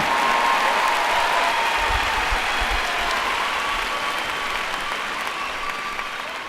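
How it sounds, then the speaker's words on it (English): Sustained applause from a commencement audience fills a large space, a dense steady clatter of many hands that holds loud and gradually eases slightly toward the end, with no talking over it. "Let's give Millie a great round of applause for her great introduction."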